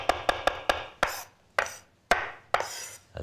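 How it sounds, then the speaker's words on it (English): Knife chopping parsley on a cutting board: sharp wooden knocks, four quick ones in a row, then slower single chops about half a second apart, each followed by a brief scraping rustle, close and dry with no speech. "of chopping parsley, with that motion"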